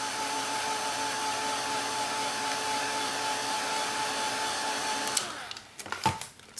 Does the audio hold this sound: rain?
no